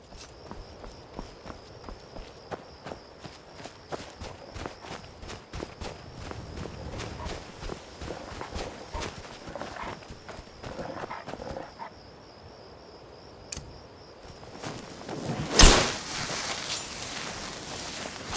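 A horse carrying a rider walks along with a steady clip-clop of hooves, a series of sharp regular hits at moderate distance, followed by a louder burst near the end.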